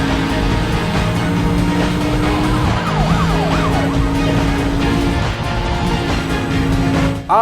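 Police sirens wail during a chase in the Need for Speed: Most Wanted video game, loud and continuous over engine roar, with a rising-falling siren sweep in the middle.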